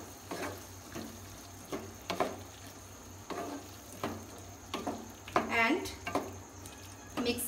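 Yogurt stirred into a kidney bean rajma curry in a pan on a low gas flame: a spoon scrapes and clinks against the metal with soft sizzling underneath, in irregular strokes, while someone speaks briefly.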